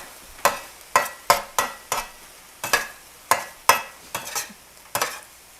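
Onions for an Afghan bolani filling cook in a pan, heard as about a dozen sharp stirring scrapes and clacks, each followed by a brief sizzle over a quiet background.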